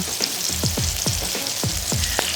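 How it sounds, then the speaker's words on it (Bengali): Pumpkin pieces fry in a pan with a steady hiss, while about eight regular scraping strokes of a spatula stir them close up; no one speaks. "এবারে একটু ভালো মতো নাড়াচাড়া করে নিয়ে দিয়ে দেবো মিক্সিতে করে রাখা সেই মশলা"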